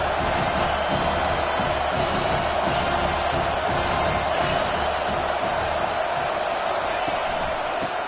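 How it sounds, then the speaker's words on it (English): A football stadium crowd at an Ohio State game roars on third down, a dense, steady wall of cheering and noise with a commentator talking over it. "Decibels rising as the crowd gets behind this defense on 3rd down."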